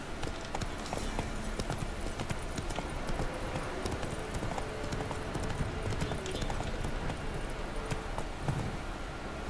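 Steady clip-clop of horse hooves in Witcher 3, trotting at an even pace under a continuous bed of game ambience, with faint talk occasionally over it.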